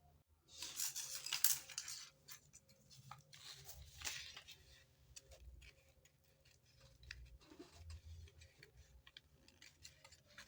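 Scissors cutting a waist dart out of dress fabric, with faint close snips and soft crisp rustling of cloth in an irregular rhythm, quiet throughout.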